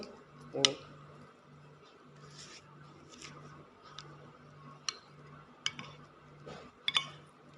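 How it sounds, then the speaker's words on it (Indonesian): A spoon stirs lakso soup with red sambal in a bowl, giving scattered light clinks and taps against the bowl at an uneven pace, quiet and close, under a soft background hum. "Kita tambahkan dengan sambal merah ya. Kita aduk ya, seperti ini."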